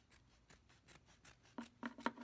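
Scissors cut out purple material along a template for a handmade lollipop hair clip, a few soft snips followed by three sharper, louder close cuts.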